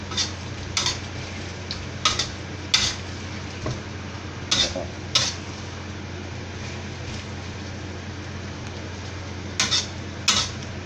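Sweet and sour stir-fry stirred in a pan, with repeated sharp clinks and scrapes of the utensil against the pan standing out over a low background hum, about a dozen strokes in irregular bursts.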